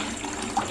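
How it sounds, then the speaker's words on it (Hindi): Okra is swished and rinsed in a bowl of water, giving brief splashing and trickling sounds, close and fairly clear. "ये सारी मैंने धो ली भिंडी।"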